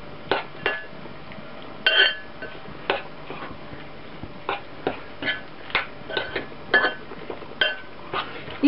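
A spoon stirring minced meat filling in a bowl for stuffed beets, giving irregular light clinks and taps against the dish at a steady, unhurried pace, close and fairly clear with no talking.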